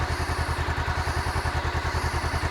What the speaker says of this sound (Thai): อันนี้เป็นเสียงเดินเบาของ ท่อเดิมนะครับ